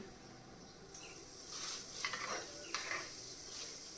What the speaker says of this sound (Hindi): और हमारा तड़का हो गया तैयार।